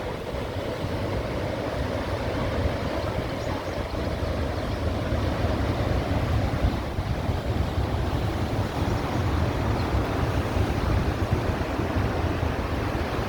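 Water from twenty opened gates of the Nagarjuna Sagar dam on the Krishna river rushes in a dense, continuous roar, steady and broadband, with wind buffeting the microphone and no talking.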